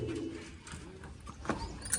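Big pigeons coo in low, soft, repeated murmurs close by, with a few faint chirps and rustles in the background.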